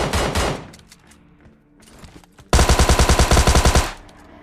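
Gunfire in PUBG, where a QBU rifle is in use: a loud volley opens, a quieter stretch with scattered distant shots follows, then a sharp run of about a dozen rapid, evenly spaced close shots.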